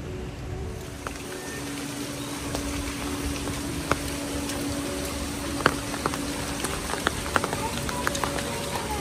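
Steady rain falls outdoors at a countryside stay, a constant broadband hiss with scattered sharp drip taps throughout, moderately loud and even, with faint voices murmuring underneath.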